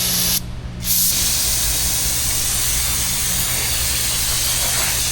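Water spray from a hose cleaning a Chevy Cruze 1.4 intake manifold, a steady loud hiss that briefly cuts out near the start, then runs continuously up close.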